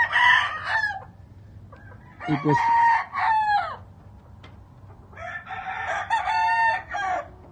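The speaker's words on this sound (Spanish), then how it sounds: "Esta es la gallina." Roosters crow loudly several times, the calls separated by short pauses, with softer clucking between them and a brief word spoken quietly.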